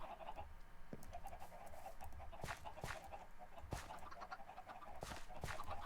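Minecraft chickens cluck on a blocky video game chicken farm, a steady murmur of short, repeated clucks with a few sharper bursts standing out across the stretch.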